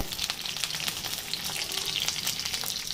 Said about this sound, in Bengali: ফুলকপিটাও ভেজে নেব।